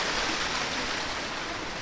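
A mountain waterfall flows during light rain, a steady, dense rush of water that fills the whole clip without any voices.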